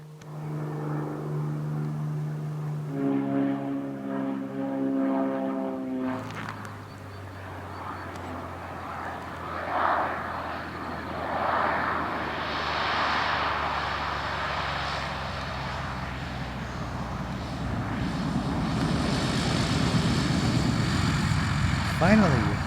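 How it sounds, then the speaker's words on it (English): A floatplane arrives to pick up a fly-in fishing trip on Montana's Middle Fork Flathead River, its engine a continuous drone that swells steadily louder from a distance. "Finally, my plane arrived, and soon I was up in the air on my way back."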